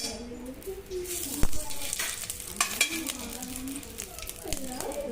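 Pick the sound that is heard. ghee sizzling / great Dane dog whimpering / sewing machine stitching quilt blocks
ghee sizzling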